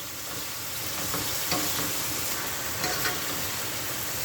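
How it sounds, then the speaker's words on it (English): Ackee and tinned mackerel cooking in a frying pan for a Jamaican dish, with tomato being crushed; a steady, close sizzle runs throughout, broken by faint stirring scrapes and soft knocks, with no talking. "Normally I crush my tomato"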